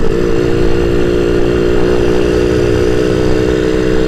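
A blue Suzuki Satria Lumba 120 R two-stroke motorcycle engine runs at a steady idle, its loud, close buzzing drone holding an even pitch throughout with no talking.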